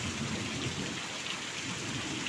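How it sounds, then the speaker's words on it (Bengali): Heavy rain pours onto a deep village pond in a dense, steady wash of loud hiss and patter, with no voices heard. "আর বৃষ্টিটাও খুব ধাসু হইতেছে।"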